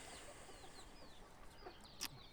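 Soft clucking from three hens nearby, with faint bird chirps and a brief sharp squawk near the end.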